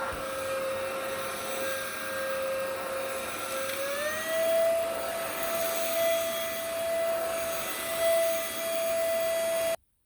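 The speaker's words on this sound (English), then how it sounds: "You see the beater bar does its thing, spinning." Homeika cordless vacuum cleaner running with its beater bar spinning, a loud steady whine that steps up slightly in pitch partway through, then cuts off abruptly.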